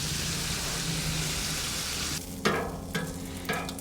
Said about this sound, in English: cooking bacon here on the Blackstone is so much easy